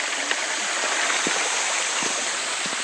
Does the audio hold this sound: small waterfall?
yes